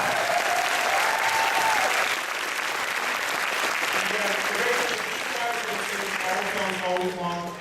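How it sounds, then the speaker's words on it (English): An audience at a midnight film premiere Q&A claps in a dense, sustained burst, with voices and a few cheers rising over the applause toward the end. "So let's give them all a round of applause."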